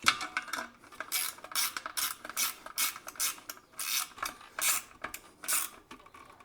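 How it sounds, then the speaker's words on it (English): Nuts being tightened on a roof rack assembly, a quiet rapid ratcheting clatter in irregular bursts throughout, with no talk. "So washer right there, get the nut, washer right there, get the nut. There we go. Now let me tighten these down."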